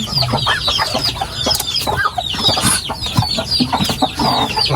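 Hens cluck and a rooster calls close by at a backyard nest where newly hatched chicks sit among eggs about to hatch, with overlapping clucks and chirps in a steady busy stream.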